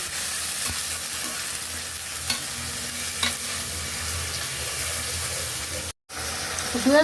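Spice masala fries in a pan with a continuous close sizzle and hiss, broken by occasional stirring taps and one brief cutout near the end.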